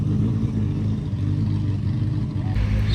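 Ferrari 550 GT2 race car engine idling with a steady, loud low mechanical rumble and rough harmonic drone throughout, close by, with a brief shift in tone near the end.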